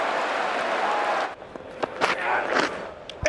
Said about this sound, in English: a roar from the Headingley crowd